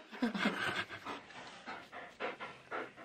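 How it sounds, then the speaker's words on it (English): A dog panting in quick, breathy, rhythmic bursts close by, fairly soft, with no talking over it. "She panting."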